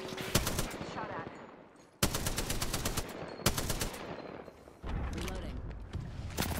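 Gunfire in the video game Apex Legends: rapid automatic bursts in several sharp volleys, loud and close, broken by short gaps, with game voice callouts mixed in.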